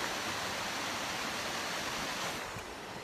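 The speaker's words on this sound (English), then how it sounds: "this is my waterfall" Steady, loud roar of a waterfall on a river, broadband rushing water heard up close with no voices, easing slightly toward the end.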